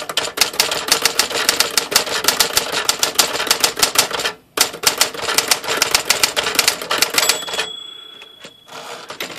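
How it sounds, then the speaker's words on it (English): Rapid typing on a reconditioned Smith Corona Classic 12 vintage manual typewriter, a dense run of crisp key strikes with a brief pause midway, followed by a bell-like ding and a carriage return near the end, close and alone. "let's take a look and see how this guy types"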